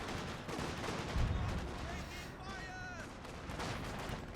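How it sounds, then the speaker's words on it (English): Machine gun bunker opening fire in Company of Heroes 2, a 3v3 match on the Across the Rhine map, with dense, continuous gunfire and battle noise mixed with other effects throughout. "Machine gun bunker is opening fire, though."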